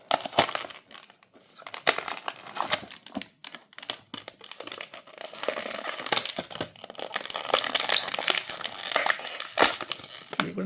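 Flimsy plastic and cardboard packaging of a 1:64 scale Audi RS5 racing model car is opened by hand, making close, irregular crinkling, crackling and tapping noises that build up toward the end.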